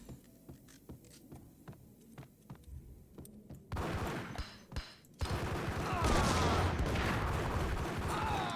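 Gunfire in the video game Max Payne: sparse single shots at first, then a dense, continuous barrage of rapid firing and clatter that grows louder toward the end.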